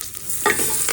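Mustard seeds spluttering and curry leaves frying in oil for Andhra-style sambar, a brief burst of steady hiss with a couple of sharper crackles, close and fairly loud, no talking.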